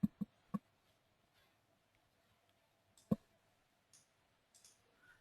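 Computer mouse clicking in software, three quick sharp clicks in a row, a single click a few seconds later, then a couple of fainter ticks, all close and isolated against near silence.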